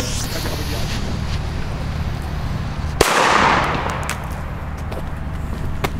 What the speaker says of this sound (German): Weiter geht es mit einem D-Böller von Funke und D-Böller von Catan.